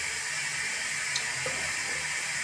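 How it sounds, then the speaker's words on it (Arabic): Tap water runs steadily into a sink while peppers are washed, a constant close splashing wash of even loudness with no voices. "انا نكون نغسل الفلفله ها هي نديرها طرونش هكا"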